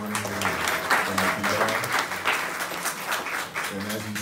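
Steady applause from an audience at a hotel cultural conversation event on politics, dense clapping sustained throughout with a low murmur of voices underneath.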